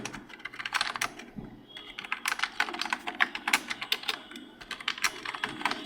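Typing on a computer keyboard gives rapid, irregular bursts of crisp key clicks with short pauses. It sounds close and fairly quiet, and no one speaks over it.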